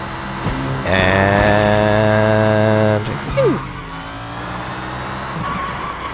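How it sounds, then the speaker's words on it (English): A car in the Sleeping Dogs video game slides on the handbrake, its engine droning loudly for about two seconds before a brief rising tire squeal cuts through, then settles into a lower rumble. "the way this thing slides when I use the handbrake, it's just great"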